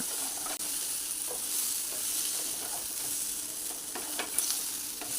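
Pumpkin, slit green chillies and drumstick vegetables are stirred in a hot pan, with a continuous sizzle and repeated spatula scrapes and clinks close by.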